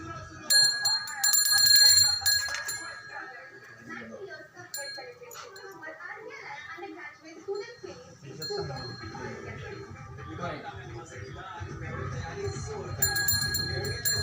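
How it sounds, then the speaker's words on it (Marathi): A small hand bell rings in bright, rapid jingling bursts during a home Gauri welcoming ritual, clearest at the start and end, with people talking and moving around it. "घंटी"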